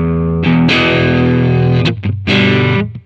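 Thick, fuzzy distorted electric guitar through Amplitube amp simulation plays sustained chords with brief breaks between them, loud and close, ending in a quick fade.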